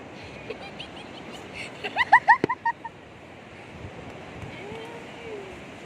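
Sea waves wash ashore at Lingayen Beach in Pangasinan as a broad, steady surf hiss. A short burst of excited voices rises over it midway through.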